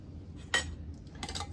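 Metal lids being set onto filled canning jars, two close metallic clinks and clatters a moment apart, the second a quick rattling cluster, against a quiet kitchen background.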